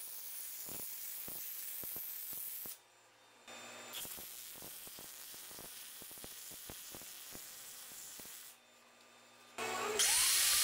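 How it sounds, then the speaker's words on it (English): A handheld power tool cuts steel pipes to length in a workshop while building a spring guide for a sawmill blade tensioner: a steady, close grinding whine runs almost the whole time, dipping twice briefly, with scattered clicks and knocks. "I'm cutting off those pipes so they'll sit inside the spring as a guide"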